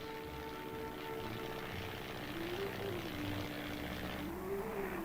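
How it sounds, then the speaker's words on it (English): A small army plane skims low over trees at 70 to 80 miles an hour, its steady propeller engine drone loud and continuous with a wavering pitch throughout. "Skimming low over the trees at 70 or 80 miles an hour, this little plane can do it in a few hours."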